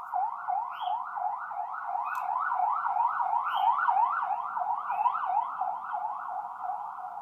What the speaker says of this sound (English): Sorry about that, sirens.